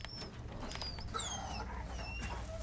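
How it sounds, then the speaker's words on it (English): Dog whimpering in Resident Evil 4 Remake, a trapped dog giving thin, high-pitched whines and a few short yips over low, steady game ambience, fairly close and moderately loud. "A dog."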